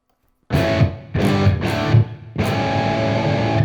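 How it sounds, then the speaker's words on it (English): Electric guitar strums ring out in a few bursts after brief silence, each chord blooming into a wide, shimmering plate reverb tail from a Universal Audio standby plate reverb. "They've got a plate reverb, that's the UA standby plate reverb that's in a lot of their DAWs."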